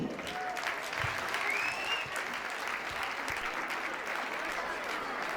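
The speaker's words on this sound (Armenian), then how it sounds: "բարձր ծափահարենք" A crowd claps loudly and continuously at an anniversary celebration of Vayk's founding, a dense wash of applause with a brief whistle rising above it.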